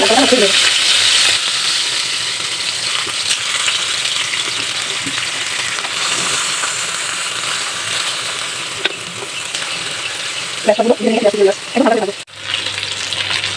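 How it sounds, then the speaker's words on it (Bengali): Hilsa fish and green banana fry in oil in a pan with a loud, steady sizzle throughout, joined near the end by a few stirring scrapes and knocks. "মাছ আর কাঁচকলাটা হালকা করে ভেজে নেব।"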